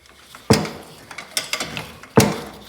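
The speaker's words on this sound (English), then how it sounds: "belt and spring that returns the treadle with each stroke" Narragansett foot-powered treadle lathe mechanism with a leather belt, freewheel and a spring-returned treadle, giving two sharp knocking strokes with lighter clicks and rattles between them, close and clear with no talk.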